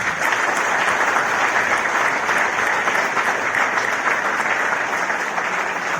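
An audience in an auditorium hall applauds a Mallakhamb performance with steady, dense clapping that stays loud and even from start to finish, with no voices rising above it.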